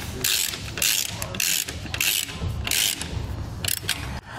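Ratchet wrench with a 1/2-inch socket tightening lock nuts on tail light bars for mud flaps, giving about five rapid clicking ratchet strokes in a quick rhythm, close and loud.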